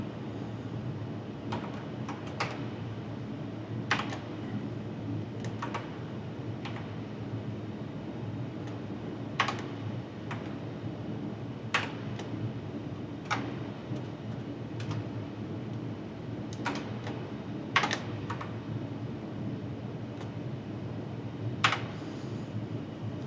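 Scattered clicks of computer keyboard keys being pressed, a few isolated taps and short bursts spread across a quiet room with a steady low hum of computer fans underneath.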